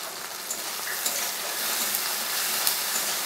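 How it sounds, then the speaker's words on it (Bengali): Okra frying in a pan with chopped tomato and green chili, giving a steady, close sizzle and crackle that holds at an even level throughout, with no talking. "খুব বেশি পোড়া পোড়া করে ভাজবো না"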